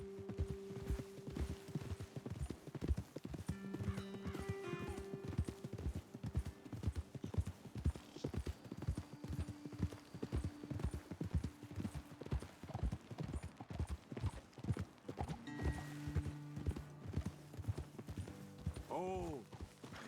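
Horse hooves clip-clop steadily in the video game Red Dead Redemption 2, a brisk, even rhythm of several horses on a trail, with game dialogue spoken over them and occasional music tones.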